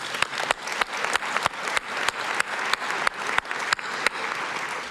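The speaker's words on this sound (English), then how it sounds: "and again, a big clap." An audience at a mainstage session of a global conference applauds, with sharp, distinct claps over a lighter background patter. It sounds like a moderately sized crowd clapping steadily and close by.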